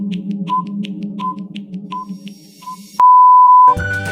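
A quiz countdown timer for a Palamu district Class 4 recruitment exam question beeps in a steady rhythm of short tones, then ends with a loud sustained alarm tone and a final chime.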